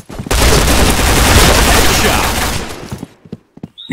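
Dense, continuous gunfire roars from the shooter video game Kaybo for nearly three seconds at close range, then cuts off, leaving a few faint scattered clicks.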